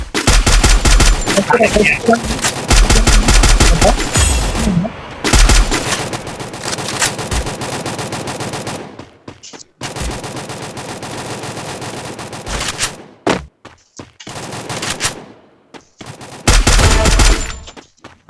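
Rapid gunfire bursts from the battle royale video game Free Fire, loud and repeated in several clusters separated by brief gaps, with quieter game sounds in between.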